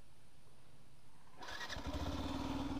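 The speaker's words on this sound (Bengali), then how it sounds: "এর ইঞ্জিনের আওয়াজটা শোনো, এখান থেকে আওয়াজ হচ্ছে।" A Yamaha FZS V3 motorcycle with about 2,000 km on it and a noisy engine starts up suddenly after a quiet moment, then revs loudly and close by with a rough, pulsing beat.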